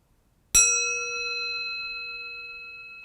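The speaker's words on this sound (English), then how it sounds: "I will end by ringing the little praying bell." A small praying bell is struck once, giving a bright, clear ring that holds and slowly fades over several seconds in an otherwise quiet room.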